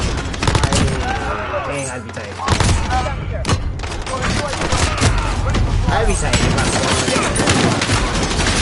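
Dense gunfire from a Call of Duty: Modern Warfare match, loud bursts and overlapping shots filling nearly the whole stretch with a brief lull, as a player talks over the action.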